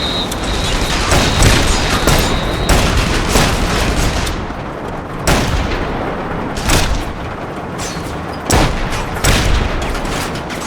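Intense gunfire from The Saboteur, with loud, close bursts of shots and booming impacts repeating throughout, almost no speech.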